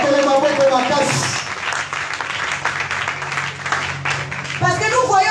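A church congregation claps and cheers loudly for the Lord, a dense burst of applause and shouting voices with sung or spoken voices rising through it.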